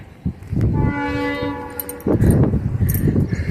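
A passing train sounds a sustained horn blast over heavy rumbling and rattling of the cars, loud and close, with the rumble swelling again after the horn ends.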